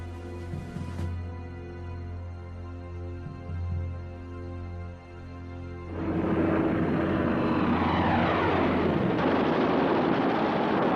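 WWII aircraft engines of Stuka dive bombers and Messerschmitt fighters: a steady droning propeller hum that swells into a loud roaring rush as the planes pass, sustained and close.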